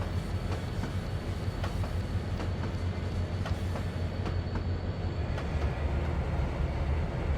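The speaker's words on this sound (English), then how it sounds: "here we are watching the aggregate train pass by Kingston Yard on the main" Aggregate train rolling past Kingston Yard on the main line in the Trainz 2019 simulator, a steady loud low rumble with faint rhythmic clicks of wheels over rail joints throughout.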